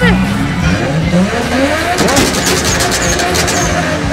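A super car in the video game GTA 5 accelerates with a revving engine and tire squeal, under excited talk throughout.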